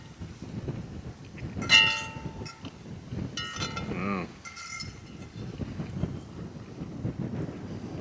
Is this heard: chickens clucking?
no